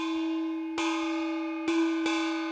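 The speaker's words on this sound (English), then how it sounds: "We have the hitter for the gong." A metal gong hit with a gong striker rings with a sustained harmonic tone, struck three times with the later two strikes close together, each blow brightening the lingering shimmer, heard alone without talk.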